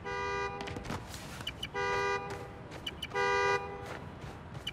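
A car horn in the Spider-Man Miles Morales video game sounds three times after a key fob press, each toot about half a second long, evenly spaced over city ambience and faint footsteps.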